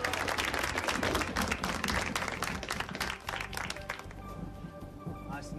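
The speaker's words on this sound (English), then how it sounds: "Let's give him a big round of applause," A crowd at a magic show claps in a burst of uneven, close applause that thins out after a few seconds, leaving sparse claps and a voice beginning to speak.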